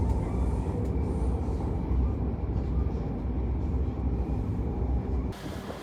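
Steady low rumble inside a moving train on the short line between Vejle and Jelling, Denmark, a continuous rolling drone holding level throughout with no talk, easing slightly at the very end.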